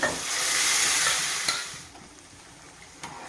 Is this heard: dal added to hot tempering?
yes